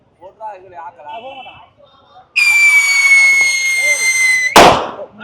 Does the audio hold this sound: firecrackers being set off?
yes